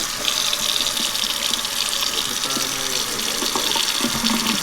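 A tap runs warm water steadily over a tie-dye shirt being rinsed in a sink, a constant close gushing stream with faint splashing throughout.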